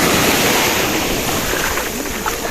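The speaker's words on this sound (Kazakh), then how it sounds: "Жерорта теңізі толқып жатыр" Mediterranean Sea waves washing onto the beach at Mersin, a steady broadband roar of surf with wind rushing over the microphone, loud and continuous with no voices.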